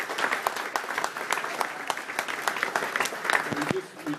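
Audience applause at a coach speeches event, a crowd clapping at a lively rhythm with distinct individual claps audible throughout, fading briefly near the end before a few more claps.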